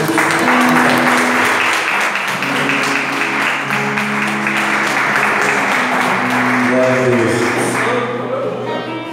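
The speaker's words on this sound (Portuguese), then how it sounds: "Vamos receber o diácono daí, aplaudindo Jesus" A church congregation applauding during a Friday evening service, loud continuous clapping with sustained tones from voices or an instrument woven through, fading at the end.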